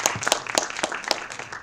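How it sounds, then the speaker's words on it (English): Participants at an online faculty development program on cyber security clap for themselves, a brief scatter of claps, sparse and uneven rather than a full crowd, lasting under two seconds. "Let's clap for ourselves."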